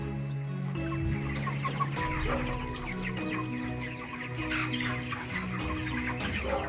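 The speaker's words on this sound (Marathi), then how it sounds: "आणि याच्यामध्ये आहेत आतमध्ये कोंबड्या" Many chickens cluck and murmur together inside a poultry farm shed, a busy overlapping chorus of hens with no one talking.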